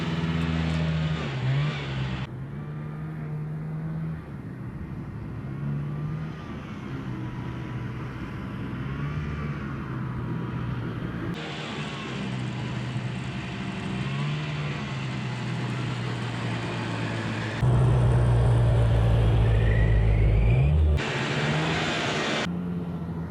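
A small two-stroke, twin-cylinder tracked mini tank drives off-road, its engine droning steadily with pitch shifts as it revs and pulls, and a louder surge near the end.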